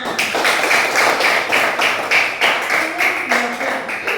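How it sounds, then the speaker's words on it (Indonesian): A group claps in a steady rhythmic beat of repeated sharp hand claps. The sound is fairly close and continuous, with no talking over it. "Ya, tepuk tangan."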